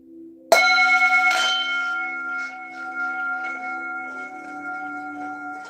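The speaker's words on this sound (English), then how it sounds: "Let me see if I can get a good sound to come through here with this singing bowl." A singing bowl struck once gives a sharp attack followed by a clear, sustained ringing tone that slowly fades and wavers, heard alone in a quiet room.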